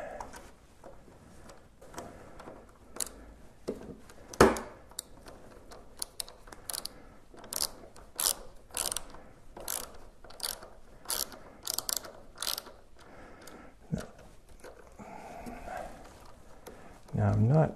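Ratchet snugging a bolt on a Brembo 19 RCS brake master cylinder on a Honda RC51 motorcycle, with repeated short clicking bursts in an uneven rhythm, close and fairly loud, and quieter mechanical handling between strokes.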